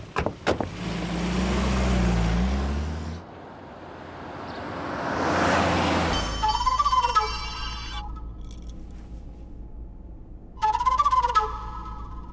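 A telephone rings in a home setting, two bursts of electronic ringtone trilling in the second half, loud and close, after a stretch of broad rushing noise and low rumble.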